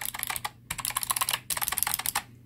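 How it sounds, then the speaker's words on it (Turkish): A Rampage mechanical keyboard clatters under rapid typing, bursts of sharp clicky keystrokes in quick runs broken by brief pauses, close and crisp with no voices. "Bak kardeşim mekanik klavye böyle olur"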